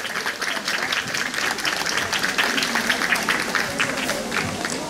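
Loud, sustained applause from an outdoor crowd at a seniors' day event on a village square, dense clapping filling the whole stretch without a break.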